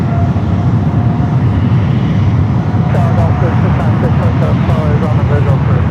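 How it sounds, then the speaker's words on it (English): United Dreamliner airliner beginning its takeoff roll down runway 28 left at San Francisco, a steady loud broadband engine roar throughout with radio-style talk over it. "United Dreamliner lined up, starting his roll down to 28 left"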